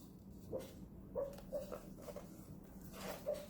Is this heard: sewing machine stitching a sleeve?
no